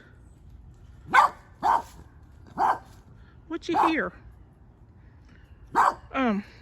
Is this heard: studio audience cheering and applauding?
no